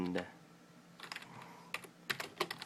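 Typing on a computer keyboard to write a long passage of text: bursts of quick, close key clicks that come in irregular clusters, with a short bit of voice at the start.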